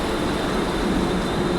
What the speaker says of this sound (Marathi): ट्रेन आता आहे.